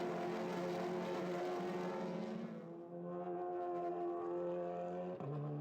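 A TCR touring race car, in 2016 free practice at the Salzburgring, begins its lap with a steady, droning engine note that shifts pitch as it accelerates. It carries on continuously and sounds moderately distant, with no talk over it.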